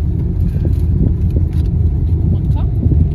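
Car rolling slowly along a road, a steady low engine and tyre rumble with some wind buffeting, continuous and close throughout.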